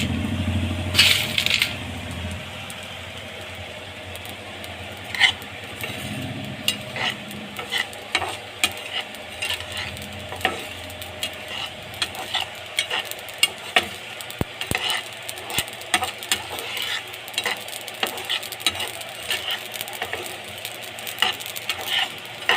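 Poppy seeds dry-roast in a pan for homemade biryani masala. A spatula stirs them with repeated scraping and light crackling in an uneven rhythm, close and fairly loud, with no voices.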